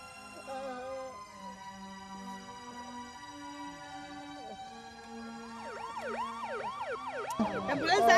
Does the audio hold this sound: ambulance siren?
yes